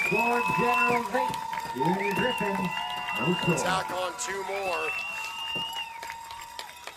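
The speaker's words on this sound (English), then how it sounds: "And hear that crowd roar." A crowd at a youth football championship game between Guelph and Niagara cheers and claps for Niagara, a steady roar loudest at the start and fading slightly. Sustained whistle or horn tones run over it, and an announcer talks throughout.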